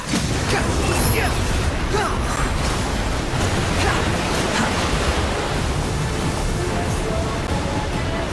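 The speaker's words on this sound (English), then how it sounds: "The wind rises." Loud, steady rush of wind in a video game attack, with sweeping gusts roaring continuously throughout and no voices.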